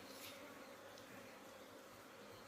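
Honeybees buzz steadily around an open beehive, a dense, continuous droning hum that fills the whole stretch at a constant level, close and fairly faint, with no voices.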